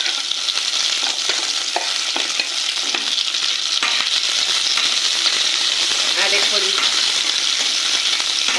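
Chopped green chili and onion roasting lightly in oil over medium gas for soybean Manchurian, a steady loud sizzle with frequent scraping stirs and small clinks running throughout, without talking.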